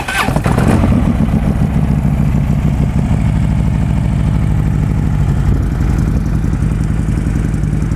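A used Harley-Davidson Road King FLHR motorcycle engine fires up with a brief clattering start, then settles into a loud, steady, lumpy low-pitched idle close to the microphone, with no talking.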